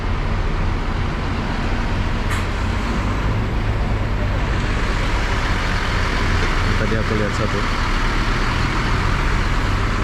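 Buses idle and move through TBS bus terminal in Malaysia, a constant rumble of engines and traffic noise close by, with people talking over it.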